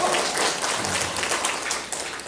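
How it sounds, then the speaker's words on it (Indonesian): An audience at a Jayanti village development planning meeting (Musrenbang) claps for about two seconds, a dense, steady patter of many hands filling the hall with no voices on top. "Tepuk tangan dulu Jayanti."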